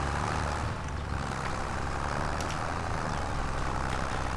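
Tractor engine in Farming Simulator 25, a steady, loud mechanical drone that runs unbroken throughout with no talk over it.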